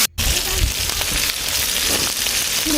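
Chicken meat frying in a pan with potatoes for a village-style curry, a soft crackling sizzle with scraping and stirring noises close by, short and fairly quiet.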